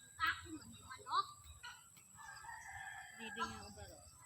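A rooster crows a couple of times at a rural harvest site, with other farm fowl and people talking nearby.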